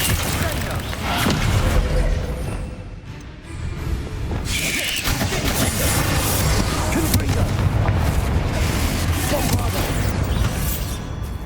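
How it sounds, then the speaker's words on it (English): A Bombarda spell explosion in the video game Hogwarts Legacy, heard as a loud, dense burst of blasting and rumble that keeps going over a constant game soundscape with a voice speaking. "Bombard!"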